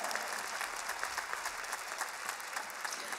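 An audience at a live concert in the Coliseu Lisboa claps steadily and evenly. The applause is fairly distant and soft, with no voices over it.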